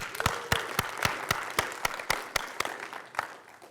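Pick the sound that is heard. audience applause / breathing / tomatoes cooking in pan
audience applause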